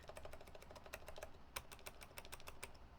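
Typing on a computer keyboard with stabilized keys sounds as a quick run of close, crisp clicks and clacks, with a few sharper, heavier key strikes standing out over a faint background hum.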